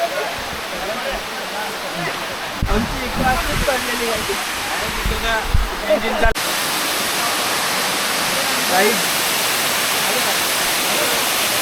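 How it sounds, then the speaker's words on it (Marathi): A waterfall rushes with a loud, constant broadband roar, while people talk and shout nearby over the water midway through. "आणि धबधबा बघा एक नंबर"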